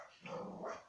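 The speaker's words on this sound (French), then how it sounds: "mon chien s'est mis à aboyer" A pet dog barks in a short burst of two or three quick, close yaps, with a slight growling edge, indoors and with no talking.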